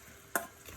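Onions tipped into a frying pan for Senegalese-style chicken yassa give one sudden, bright sizzling burst, then a softer frying hiss that fades quickly. The single splash of noise sits close and stands alone, with no talking.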